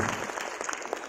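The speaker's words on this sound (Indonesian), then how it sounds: "Kita beri tepuk tangan meriah untuk Pak Doan." Lively applause from an audience at a company event, a brief, dense burst of many hands clapping.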